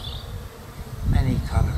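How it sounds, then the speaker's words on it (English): Bees buzz among a bed of heather in a monastery courtyard, a soft, diffuse insect drone over quiet outdoor ambience that swells slightly toward the end. "And the bees are busy. I hope you can hear them."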